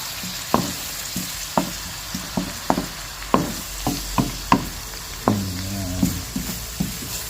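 Corned beef sautés in a pan with fish sauce and pepper, a constant sizzle punctuated by rhythmic spatula knocks and scrapes roughly every half second, close up with no talking.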